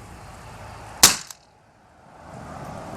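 A single sharp, crisp shot from a CZ 75 P-07 airsoft pistol loaded with 0.25 gram BBs, close and fairly loud against quiet room tone, with a faint secondary click right after.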